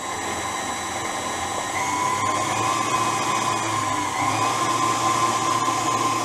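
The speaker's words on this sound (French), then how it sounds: "Et on peut allumer. Donc pour commencer, hein, fouetter doucement." An electric whisk mixes waffle batter with a steady high whirring drone, close and continuous, without voices.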